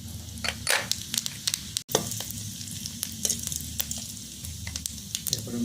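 Whole cumin seeds, with whole chilies and whole garam masala, crackle and sizzle in hot oil, a lively close fry peppered with sharp pops and occasional stirring scrapes.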